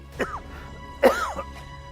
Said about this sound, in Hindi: इतनी बुरी तरीके से खांस रहे हैं आप।